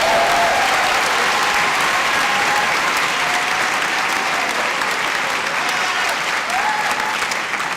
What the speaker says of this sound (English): Let's have a round of applause for all the NYU Wagner students who won an award this year